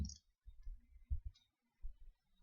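Several soft, close clicks of a computer mouse in a quiet room, spaced irregularly, as a Google Chrome tab is right-clicked.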